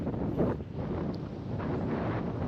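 Wind blows through a park in Bangkok, buffeting the microphone with a steady, loud rumbling rush and gusty swells, with no voices.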